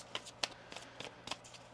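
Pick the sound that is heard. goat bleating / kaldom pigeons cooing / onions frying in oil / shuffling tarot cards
shuffling tarot cards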